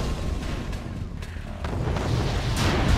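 Naval artillery fire in Red Alert 2: Yuri's Revenge, a dense rumbling barrage of booms and blasts rolling continuously, loud and close with a few sharper cracks.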